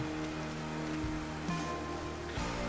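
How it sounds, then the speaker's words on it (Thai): Rain falls in the zombie survival video game Project Zomboid, a dense, steady hiss of broadband noise with a faint low hum beneath, continuous and fairly loud, with no talking. "กูไม่ชอบฝนตกเลยเนี่ย"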